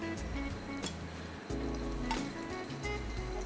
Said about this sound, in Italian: cominciamo invece a rosolare il polpo